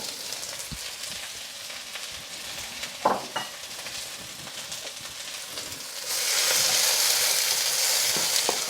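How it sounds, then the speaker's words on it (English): Onions and celery sweating in a little oil, starting as a soft sizzle with a brief clatter of stirring, then swelling into a louder, steady frying hiss once the vegetables hit the pan. "we're now going to add our onions and our celery."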